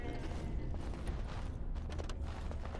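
Goats in the Dragon Age: Origins video game give out creaky, door-like groaning calls, a few rough, mid-loud creaks that rise over a dense game background with no talk.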